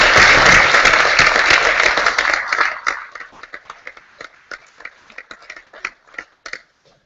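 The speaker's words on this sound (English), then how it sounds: "we deserve at least a round of applause to Councillor." Councillors at a council annual general meeting applaud in a loud, dense burst of clapping that fades after a few seconds into scattered, individual claps before stopping.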